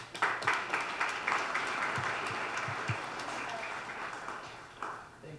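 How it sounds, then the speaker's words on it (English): Applause from a crowd at an outdoor community picnic, a steady wash of clapping lasting several seconds with a few sharper claps near the end, moderately distant. "Give me a round of applause."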